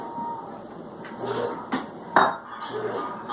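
Salt and canola oil containers set down and shifted on a kitchen surface, giving a few close knocks and light clinks over a steady background.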